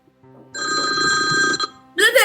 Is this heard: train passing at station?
no